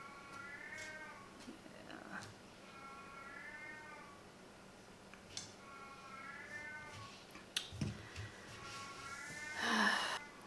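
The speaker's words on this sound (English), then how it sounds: "She's doing the questioning meow now." A pet cat meows repeatedly indoors, several rising, questioning calls spaced a second or two apart, fairly quiet and close, ending with a louder, harsher meow and a brief rustle.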